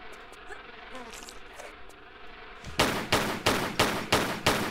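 Wasps in the video game Tomb Raider III buzz in loud, rhythmic pulses that start suddenly after a stretch of faint ambient noise with scattered clicks.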